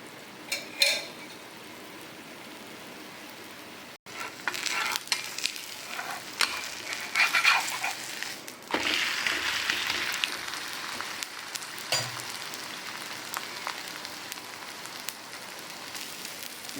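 Wheat dosa batter sizzles and crackles in a generous amount of oil on a hot pan, a steady close frying hiss with occasional sharper pops and a brief lull near the start.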